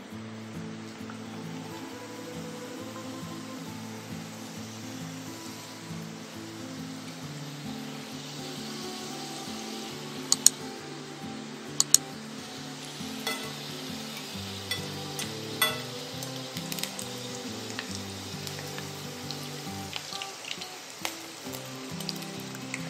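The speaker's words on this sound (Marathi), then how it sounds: "स्लो गॅसवरच मी इथे करंज्या तळून घेणार आहे आणि एका वेळेस 2-3 करंज्या सोडायच्या आहेत आपण" Karanji pastries fry in oil over a low flame, giving a soft continuous bubbling sizzle with occasional light clicks, close and steady.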